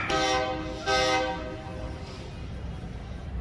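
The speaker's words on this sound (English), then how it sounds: "I have no idea where that train can be." A train horn sounds in two loud blasts, then the steady rumble of rail cars rolling past in New Orleans fills the rest.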